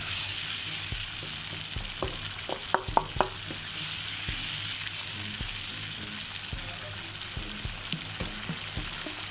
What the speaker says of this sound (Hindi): मसाला पकना शुरू हो गया